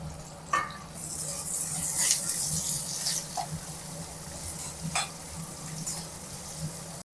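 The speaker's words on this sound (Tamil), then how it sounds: "இஞ்சி, பூண்டு, வெங்காயம் இது எல்லாத்தையும் நம்ம வதக்கிக்கலாம்" Ginger, garlic and onion sautéing in hot oil in a kadai for channa masala, giving a steady close sizzle with occasional light scrapes and taps of a stirring spoon.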